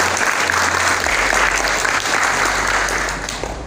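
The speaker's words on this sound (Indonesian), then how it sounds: "Tepuk tangan untuk SMP Negeri 2 Gempol." A school audience at SMP Negeri 2 Gempol applauds the school's double trophy win, with dense, loud clapping that fills the room and tapers off slightly near the end.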